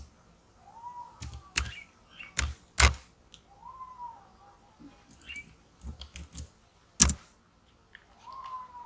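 Computer keyboard used to type a letter in Microsoft Word 2007: sparse, close keystrokes and a few sharper clicks, irregular and separated by short pauses, with faint voice-like murmurs in between.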